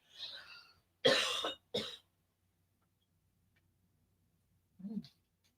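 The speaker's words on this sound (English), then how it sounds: "Hold on, I got a cough again." A woman coughs close to the mic in a quiet room, two harsh bursts in quick succession followed by a softer throat sound a few seconds later, with near silence in between.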